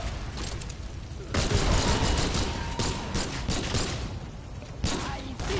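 Continuous rapid gunfire from a teammate in the video game Remnant 2, a dense, loud rattle of shots with impacts that runs through the whole stretch, with no clear speech over it.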